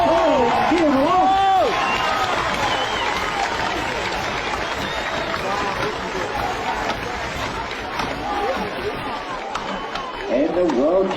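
A crowd at a world tree felling championship cheers and applauds steadily throughout, a dense wash of clapping and shouts with a few louder yells rising above it.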